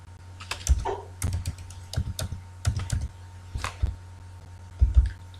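Coding in R on a computer keyboard produces irregular bursts of crisp key clicks, close and fairly quiet, with short pauses between clusters of keystrokes and a low steady hum underneath.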